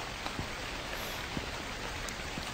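Steady rain hisses in the video game The Convenience Store, a dense, even wash of falling drops with a few faint ticks of individual drops on a surface, with no voices.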